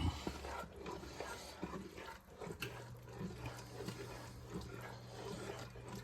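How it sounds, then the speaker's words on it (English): Water poured off boiled potatoes in a kitchen, a faint steady rush and splash of liquid with low background hum, quiet throughout. "I typically drain the water off the potatoes and get the starchiness out of it"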